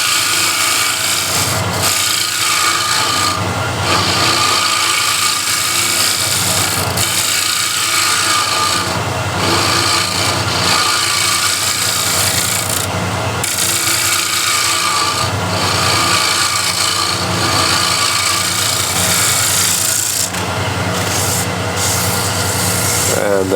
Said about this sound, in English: So I'll use the scraper one more time.